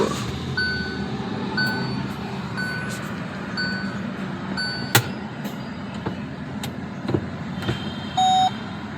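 A car at a car wash starts up, its engine humming low while a series of repeated reversing beeps sounds at intervals, with a sharp knock midway and a brief tone near the end.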